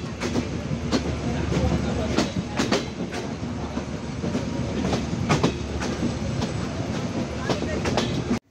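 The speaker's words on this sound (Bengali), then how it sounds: "Chitra express train Mobarakganj rail স্টেশনে তার 2 মিনিটের যাত্রা বিরতি শেষ করে ছেড়ে যাচ্ছে মোবারকগঞ্জ রেল স্টেশন" The Chitra Express pulls away from Mobarakganj railway station in Bangladesh, its wheels clacking in a sharp, repeating rhythm over rail joints under a steady rolling rumble, close and fairly loud.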